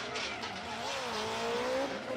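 A Formula Drift car enters the outer zone on the Ebisu course during qualifying, its engine revving hard with tire squeal, fairly close and continuous over a couple of seconds.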